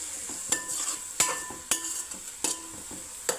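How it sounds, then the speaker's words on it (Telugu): Garlic and ginger paste frying in oil for a small-fish stew, stirred with a ladle: an even sizzle cut by five or six sharp metallic scrapes at a regular pace, close and clear, with no speech. "వెల్లుల్లిపాయలు అల్లం పేస్ట్ వేసాం కదా, చక్కగా వేయించుకుందాం."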